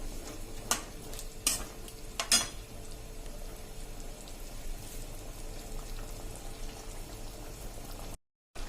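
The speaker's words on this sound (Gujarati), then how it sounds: "આને આપણે થોડીક વાર હલાવીશું" A few quick scraping stirs in a pot, then a soft steady simmer of bubbling liquid, quiet and close.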